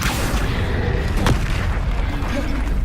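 Spell explosions in Hogwarts Legacy combat, Confringo and Bombarda blasts, go off as a deep boom with a sharp crack near the middle, layered over continuous rumbling battle noise.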